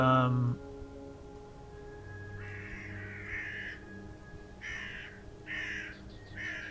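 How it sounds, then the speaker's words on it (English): Several crows caw in short harsh bursts, repeated at uneven intervals over a steady low hum, with a voice briefly heard at the very start. "Love the birds."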